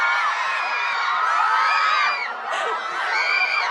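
Fans at a Korean Earth Hour 2019 event scream, shriek and cheer in a dense, sustained roar, with a brief dip partway through before the high-pitched shouting swells again.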